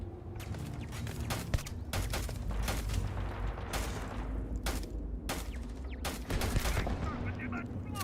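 Rapid gunfire bursts in Starfield from a turret down below and other weapons, dense, loud and continuous, with sharp cracks over a rumbling battle din.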